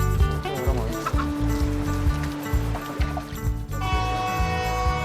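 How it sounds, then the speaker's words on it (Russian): A rooster calls by the water's edge in Mozambique, with fowl clucking and crowing sounds mixed under prominent music, while flowing water murmurs in the background. "А у кромки воды бывает так, что командует петух."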